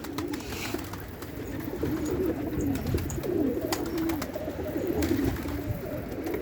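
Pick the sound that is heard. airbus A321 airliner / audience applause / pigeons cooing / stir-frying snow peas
pigeons cooing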